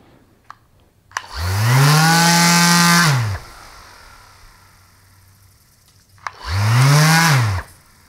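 A Mirka Deros electric sander with soft start whirs up smoothly to a steady high-pitched whine, runs briefly and brakes to a quick stop, then repeats the same cycle a second time; no talking.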